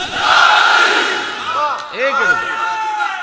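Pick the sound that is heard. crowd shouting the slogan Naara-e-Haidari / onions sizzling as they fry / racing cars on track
crowd shouting the slogan Naara-e-Haidari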